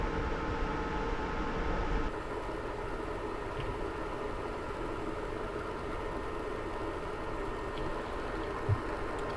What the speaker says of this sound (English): unedited, next to the box with its fans on full tilt